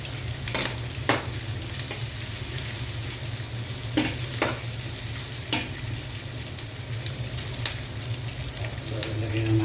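Chopped tomatoes frying with sautéing onions in a hot pan, a steady close sizzle with occasional scraping stirs, no talk.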